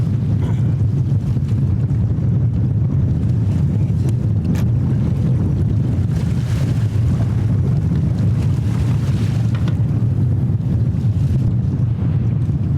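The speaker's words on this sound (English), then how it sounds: "we're pre-frontal here, wind's blowing" Strong wind buffets an open fishing boat on a lake during rough pre-frontal conditions, a steady loud rushing roar with low rumbling gusts throughout, no voices.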